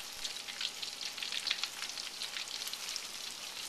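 Pork pieces fry in hot oil, making a quiet, steady sizzle with light crackling pops scattered throughout and no talking over it.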